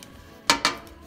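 The metal hatch of a crawfish cooker gives two quick, close metallic clanks in a row, like metal knocking against metal, in an otherwise quiet moment.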